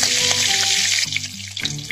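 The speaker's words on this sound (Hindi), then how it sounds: "इसमें करी लीव्स डालेंगे।" Curry leaves crackle and sizzle loudly as they hit hot oil in a pan. The frying is a dense, close hiss with sharp pops throughout.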